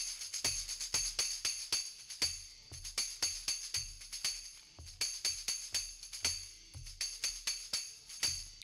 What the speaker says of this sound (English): There's also a tambourine part adding to the rhythm.